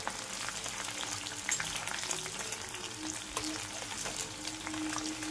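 Marinated poultry chicken meat hits onions browning in a hot pan, a continuous loud sizzle with a few light stirring clinks and no speech.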